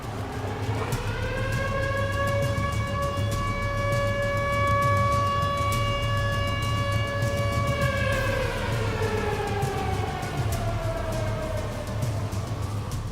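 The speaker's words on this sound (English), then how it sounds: "The sirens start going off again for the second time." Civil defense tornado warning sirens wail over Joplin, a long, steady, loud howling tone that holds and then slides down in pitch, heard from a distance above constant road and wind noise.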